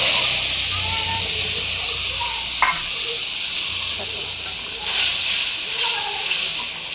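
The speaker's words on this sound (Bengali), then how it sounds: "এবার দেখো এই মাছের তেলে আমি এখানে দিয়ে দিচ্ছি আদা বাটা, রসুন বাটা, টমেটো দিয়েছি অর্ধেক দিয়ে আর পেঁয়াজ দিয়ে মিক্সিতে পেস্ট করে নিয়েছি" Ginger, garlic, tomato and onion paste sizzles steadily in hot fish oil in a pan, a loud continuous hiss with a few faint clinks of a utensil.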